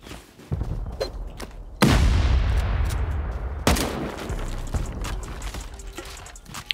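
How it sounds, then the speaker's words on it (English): Rockets fired at an armored base during a video game raid, two heavy booming launches with long rumbling decays, amid scattered distant gunfire and mechanical clatter. "I want to start sending off rockets before these guys finish the raid over there"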